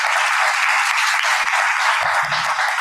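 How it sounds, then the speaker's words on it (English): An indoor audience at a wellness series talk claps steadily throughout, a close, even burst of applause. "Let's give him a round of applause."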